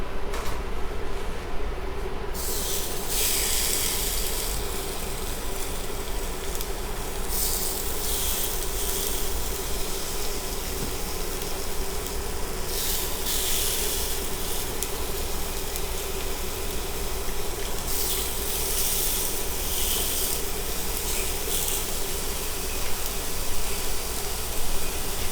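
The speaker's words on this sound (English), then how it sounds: "You want to sear it real quick for like 3 minutes on each side." Bigeye tuna sears in a smoking-hot pan, giving a steady, dense sizzle that holds at an even loudness throughout with no talk over it.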